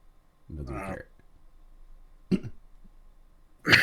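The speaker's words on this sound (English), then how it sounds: "Still got a bit of a lingering cough" Two short, harsh coughs separated by a pause, close and fairly loud, with a brief voiced throat sound just before them in an otherwise quiet room.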